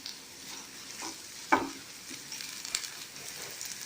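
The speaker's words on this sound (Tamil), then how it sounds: "இஞ்சி பூண்டு விழுது உரல் தட்டி வச்சுருக்கேன், அதை சேர்க்குறேன். இது வதக்கிடலாம்." Ginger garlic paste and curry leaves sautéing in oil for a goat spleen gravy, a soft sizzle broken by a sharp spoon scrape or clatter midway and a few lighter stirring knocks, fairly quiet with no voices.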